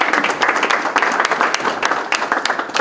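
A church congregation applauds for Jesus Christ, a dense, steady crowd clapping at close range, sustained and even throughout.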